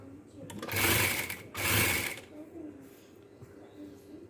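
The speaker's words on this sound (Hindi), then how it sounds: "ये यहाँ पे हम इसको स्टिच करते जाएंगे।" A sewing machine stitches homemade patchwork in two loud, whirring runs separated by a short pause, then stops while a voice talks quietly in the background.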